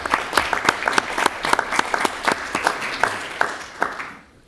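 Applause at a city council meeting on a long-term plan: a modest group claps in distinct, uneven strikes that fade out toward the end, heard alone without talk.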